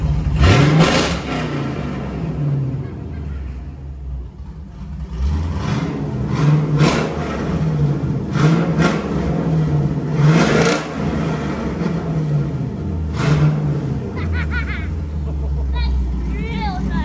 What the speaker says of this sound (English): just give her a decent rev, but not too much